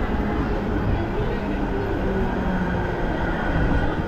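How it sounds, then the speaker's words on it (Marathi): A Virar local train pulls into Borivali station with a heavy, continuous rail rumble and wheel noise that stays close and loud throughout, while people talk faintly beneath it. "विरारची ट्रेन आली आहे, विरारची।"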